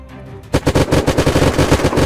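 Automatic gunfire from the video game Unturned, fired in a military-base firefight, comes as a loud rapid string of close shots in a steady burst.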